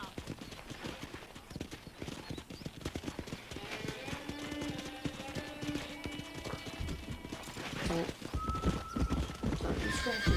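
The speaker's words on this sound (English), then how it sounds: "there's a pack of wild horses nearby" A pack of wild horses in Red Dead Redemption whinnies and neighs while hooves clip-clop steadily nearby, a long whinny rising near the middle. A voice may be heard faintly under the hoofbeats.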